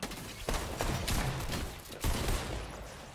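Gunfire rattles in a Fortnite heist-mode battle, dense overlapping bursts of shots with a heavier blast near the middle, loud and close with no talking.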